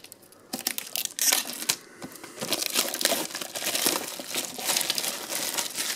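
Packaging on a Pokémon Ho-Oh EX card tin is torn and crinkled open, an irregular run of close, crackling rips and plastic rustles that build and stay busy throughout.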